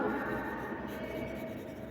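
A pen writing on paper, a close, soft scratching that runs steadily with faint rubbing strokes.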